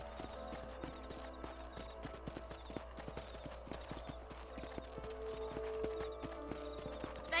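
Steady clip-clop of horse hooves in Red Dead Redemption trots along at an even rhythm, fairly quiet, over a faint game soundtrack.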